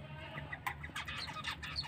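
A brooding hen clucks softly in irregular bursts close by, with a rooster keeping her company, all against a low steady background hum with no speech.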